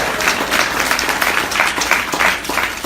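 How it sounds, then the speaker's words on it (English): A seated crowd at a motivational speaking event gives a full, continuous round of applause, many hands clapping together in a thick, even roar with no talking. "Give yourselves a round of applause"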